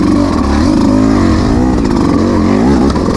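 A 2026 Beta 200 RR X-Pro two-stroke dirt bike labors up a rocky climb, its engine loud and close with a buzzing, wavering pitch that rises and falls as the throttle is worked over rocks.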